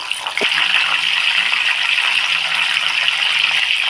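Salt water hitting a hot frying pan while making banana chips, a sudden splash followed by a steady bright sizzling hiss that continues evenly, no talking.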